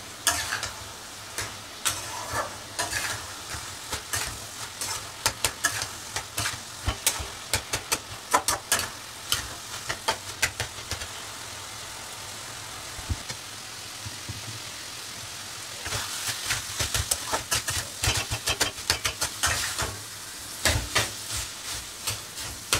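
An ash gourd and potato curry with lentil bori fries in a pan over a high gas flame, giving a dense, steady crackle like heavy rain that surges louder toward the end.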